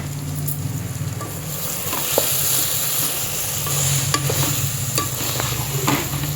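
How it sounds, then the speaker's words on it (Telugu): Drumstick and horse gram curry sizzling steadily in a pan over a village-style fire while a spoon stirs it, giving occasional scrapes and clinks over the continuous frying hiss, close and fairly loud. "మళ్ళీ ఒకసారి కలుపుకొని చూసుకుందాం."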